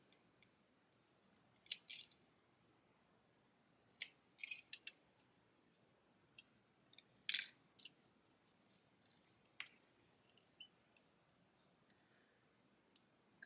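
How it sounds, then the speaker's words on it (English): Scissors trim foam for small craft mittens, giving quiet, crisp snips in scattered bursts with pauses between cuts in an otherwise still room. "I'm doing a terrible job at trimming foam for these little mittens."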